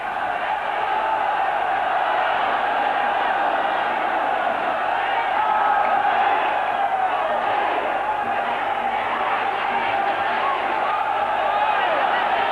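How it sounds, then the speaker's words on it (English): A packed Muay Thai fight crowd roars continuously in a dense, loud wash of cheering and shouting that holds steady without pause as a bloodied fighter battles on. "The crowd is going crazy"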